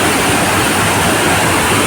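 Devkund waterfall in Similipal National Park, Mayurbhanj, Odisha, where water pours over a temple in a steady, loud, broadband roar. The roar stays dense and unbroken, with no talk over it.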